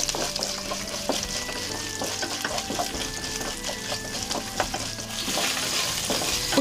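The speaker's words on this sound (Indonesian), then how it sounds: "Setelah minyak panas, lalu goreng udang." Shrimp frying in hot oil in a pan, a steady close crackling sizzle with scattered spattering pops that continues evenly throughout with no talk.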